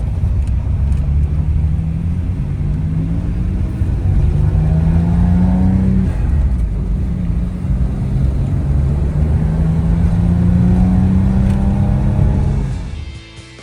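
2000 Chevy Camaro on a test drive after exhaust repairs, its engine revving loud and close through repeated rising and falling gear pulls over steady road noise, easing off at the end; no talk.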